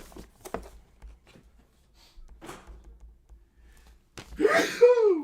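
A single loud sneeze bursts out near the end, after a few soft breathy sounds and quiet moments.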